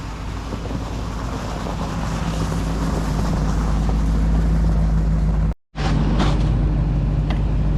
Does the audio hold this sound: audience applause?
no